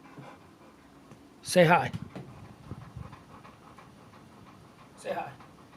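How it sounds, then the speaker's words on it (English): A dog pants in short breathy bursts at close range as a storm approaches, with someone speaking briefly over it. "It's that breathing. Jesus, I hate the panting."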